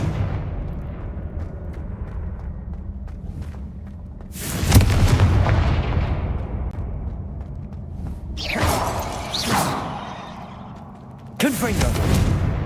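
Confringo blasting spells go off in Hogwarts Legacy, sharp booming bursts with whooshing tails striking three times over a low rumbling game backdrop, loud and close.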